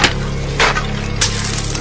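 Wooden tables of money changers crash over in a dramatized Bible scene, two sharp clattering impacts about half a second apart over a steady low background.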